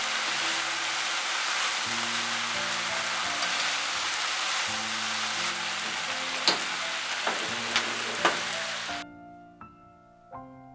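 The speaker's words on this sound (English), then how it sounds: "Finally, put the spring onion and the cilantro. Briefly stir and cut the fire." Shrimp noodles with bean sprouts, spring onion and cilantro stir-frying in a hot wok, a loud continuous sizzle with scraping stir strokes that stops abruptly when the heat is cut.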